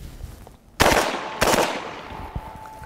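A UMP45 fires incendiary ammunition at steel at close range: two loud, sharp gunshot bursts about half a second apart, each followed by a ringing metallic decay and echo, then a fainter knock.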